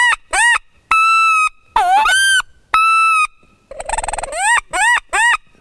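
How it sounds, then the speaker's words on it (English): A series of loud, close wood duck calls: short rising squeals and longer whistled notes, with a brief raspy burst near the end and nothing else in the background. "Like this is a wood duck."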